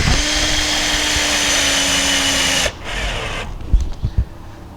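Power drill driving a screw into a wooden chapati board, a close, steady high whine for under three seconds that cuts off abruptly, followed by a few soft knocks and handling sounds.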